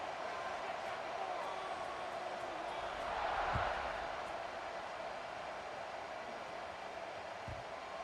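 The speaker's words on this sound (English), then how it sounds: "this crowd is buzzing after that last score" A stadium crowd in the NCAA 26 college football video game, Kansas against Mississippi State, buzzes in a steady broad roar that swells briefly midway, with a commentator talking over it.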